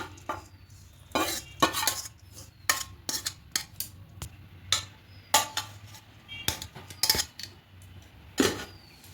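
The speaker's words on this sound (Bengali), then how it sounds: "এখানে যে গাজরটা একটু ভেজে রেখেছিলাম গাজর আর কাঁচা লঙ্কা কুচি এটা দিয়ে দেবো" Fried carrot and chopped green chili go into a semolina batter, heard as a series of close, irregular scraping and clinking strokes of a spoon against a bowl over a quiet background, no talking.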